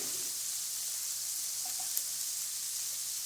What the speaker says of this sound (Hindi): वेजिटेबल को मैंने यहाँ पे हल्का सा फ्राई किया।